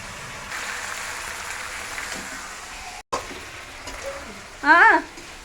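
Spiced mutton sizzles and fries in a hot pan, a steady hiss that holds for several seconds, briefly drops out, then resumes, with a short voice rising over it near the end.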